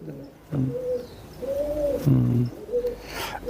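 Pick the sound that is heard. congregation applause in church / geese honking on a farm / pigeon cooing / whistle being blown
pigeon cooing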